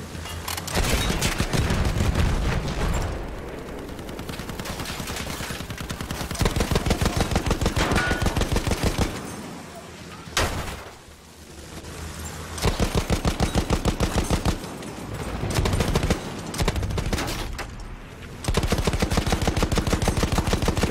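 Rapid bursts of automatic gunfire and single shots from a Battlefield 1 Open Beta Conquest match on Xbox One crackle loudly and almost continuously, with brief lulls between volleys.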